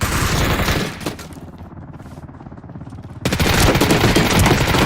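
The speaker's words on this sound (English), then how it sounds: "Krill looking upwards, taking some shots with the 55XP" Bursts of rapid fire from a 55XP in the video game Ring of Elysium, loud and close, stopping for about two seconds and then resuming in a dense volley.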